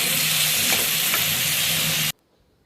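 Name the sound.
vegetables frying with masala spices in a pan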